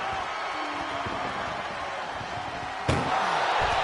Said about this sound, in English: Oh, what a powerhouse collision here.